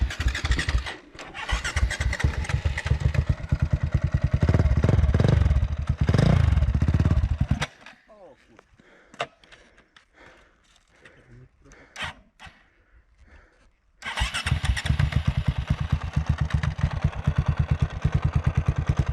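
A KTM 525 motorcycle engine turns over and runs loudly with a rapid chattering idle, drops away to a quiet pause with scattered clunks, then fires again and keeps idling roughly; people talk nearby.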